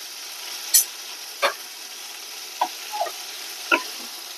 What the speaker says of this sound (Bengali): কাজু বাদাম পোস্তর সাথে মশলাটা, চিংড়িটা, পটল সবগুলো আমার ভালোভাবে কষানো হয়ে গেছে।